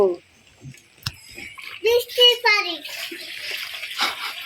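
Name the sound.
washing and cleaning a duck with water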